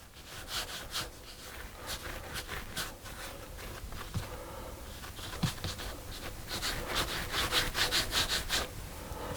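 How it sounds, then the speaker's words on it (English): Bolillo bread dough rolled by hand on a work surface, a steady rhythmic rubbing and scuffing as the palms shape tapered ends and a fat middle, close and fairly loud throughout. "I want to roll that with my hands angled at about 45 degrees"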